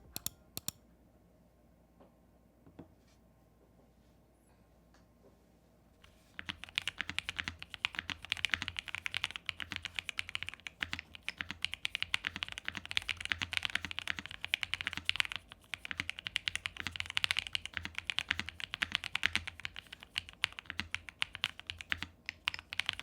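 Fast, steady typing on an ROG Azoth Extreme mechanical keyboard, a dense run of crisp, close clacks that begins after a few quiet seconds with a handful of isolated clicks and then continues alone without pause.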